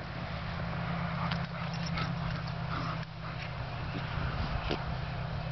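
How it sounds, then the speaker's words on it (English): Dogs scuffle and tussle with soft thumps, paw scrapes and muffled whines over a steady background hum. "Gator, let the puppy up."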